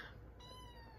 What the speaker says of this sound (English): I'm sorry if you hear crying, it's my cat.